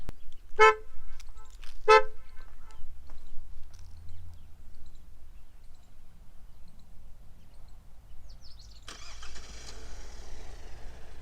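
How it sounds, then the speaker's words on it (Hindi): Two short, loud toots from a Kia Sonet GTX+ car horn sound in quick succession, followed by a low idling rumble and a rise of broadband noise near the end. "let's first check the horn"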